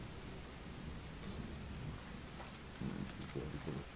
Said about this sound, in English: You can't see it's raining?